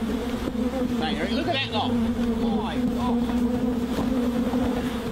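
A large swarm of bees buzzes loudly and continuously at close range in the Australian bush, a steady droning hum under a man's brief spoken remark.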